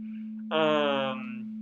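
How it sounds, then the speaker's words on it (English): A synthesizer carrier frequency sounds as a steady, clear tone throughout, with a brief brighter, richer swell of about half a second in the middle before it settles back to the plain hum. "you'll hear nothing but the carrier frequency. Single sine wave."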